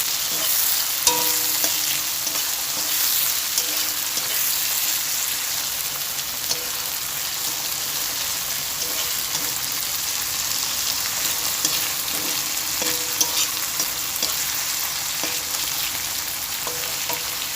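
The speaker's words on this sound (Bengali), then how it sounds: "মশলাটা আমি তেলের মধ্যে দিয়ে দিয়েছি দিয়ে আমি ভালো করে নাড়াছাড়া করে নেবো" Spices frying in hot oil while being stirred for a chana dal with katla fish head, a loud continuous sizzle with occasional scraping strokes of the spoon, no talking.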